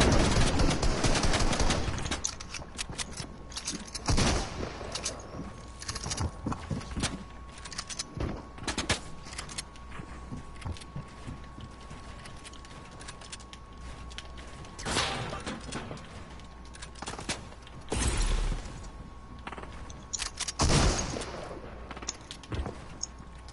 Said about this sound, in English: he had the Midas drum gun